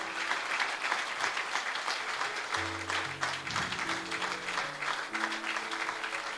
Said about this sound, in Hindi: जोरदार तालियां पास्टर जी के लिए।